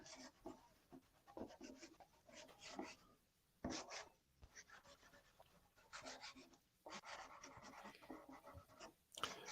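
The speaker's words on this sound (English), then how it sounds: "Pastels can be a little noisy on sanded paper." Pastel drawn across sanded paper, a faint, close scratchy rubbing in repeated uneven strokes with short pauses between them, with no talking over it.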